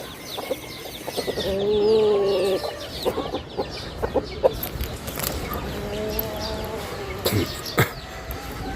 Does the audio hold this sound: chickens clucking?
yes